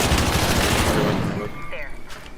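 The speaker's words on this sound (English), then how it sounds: "We're shooting." Dense automatic gunfire from the video game Arc Raiders, a loud rapid burst of shots that gradually thins out and fades toward distant echoes by the end.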